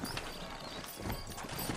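Horse hooves clip-clop steadily at close range in a Western town setting in Red Dead Redemption, with a faint whinny and ambient game noise underneath and no talking.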